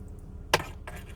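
A Honda Odyssey sliding door switch being pressed, giving one sharp close click followed by a softer second click, faint background hum beneath.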